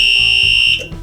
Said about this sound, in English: which rings the fire service buzzer.